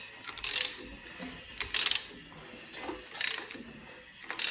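A Ford 302 tunnel port engine with all spark plugs fitted is cranked over slowly by hand, giving four separate ratcheting, mechanical clicking bursts at a steady, unhurried rhythm, close by with quiet gaps between.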